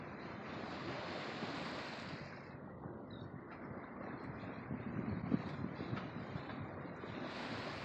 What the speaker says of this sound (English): enjoying the sound of the waves